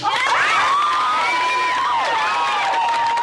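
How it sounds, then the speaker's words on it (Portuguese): Sound-effect crowd cheering with shouts and whoops, loud and steady from start to finish, with faint applause underneath. "Cadê as palmas?"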